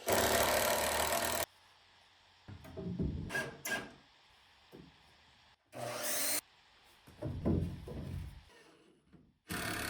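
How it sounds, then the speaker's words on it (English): A power driver sinks screws into a wooden joist hanger while building stairs at a log cabin: several loud, close bursts of whirring, separated by short quiet gaps. "We'll start with this hanger with screws just cause you never know."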